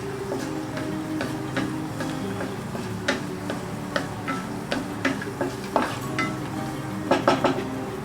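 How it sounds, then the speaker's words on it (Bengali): Two dried red chillies fry in hot oil with a steady sizzle, while light taps and scrapes of a spoon against the pan break in irregularly, close by and without any talk. "2টো শুকনো লঙ্কা আমি ফোড়ন দিচ্ছি। শুকনো লঙ্কাটা একটুখানি ভেজে নেব"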